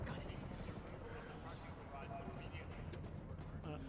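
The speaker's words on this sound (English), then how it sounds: "There's a helicopter waiting." A helicopter in Resident Evil 3 gives off a steady rotor rumble and drone that runs the whole time beneath people talking.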